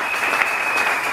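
Church congregation applauding during a worship service, a steady dense wash of clapping that fills the whole moment at close range, with no talk over it.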